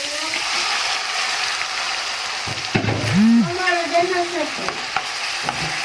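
Alexandrian-style street liver hits a hot pan and fries with a steady, loud sizzle, while the spatula scrapes and stirs against the metal.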